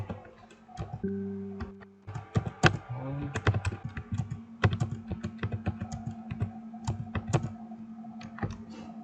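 Keys clatter on a computer keyboard as a message is typed, a close, busy run of quick clicks and taps with a low steady hum underneath.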